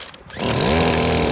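A McCulloch whipper snipper on its first start after a service: a few quiet pulls and clicks, then the small two-stroke engine catches and settles into a loud, buzzing, steady run close by.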